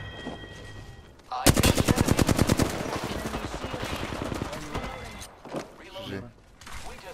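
Rapid video-game gunfire erupts in a loud, dense burst of shots that gradually thins into scattered fire, with a player talking over and around it.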